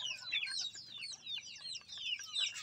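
Pet backyard chickens clucking steadily with overlapping soft calls throughout, close and moderately loud, with no voices.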